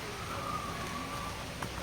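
A dense, steady hiss of rain falls continuously, with a faint tone drifting through briefly in the background.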